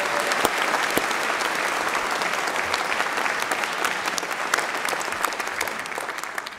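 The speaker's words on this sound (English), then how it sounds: "you could give her a slightly louder round of applause than that" A ceremony audience gives a round of applause, steady dense clapping from many hands at close range. The clapping is sustained and even throughout and tails off slightly at the very end.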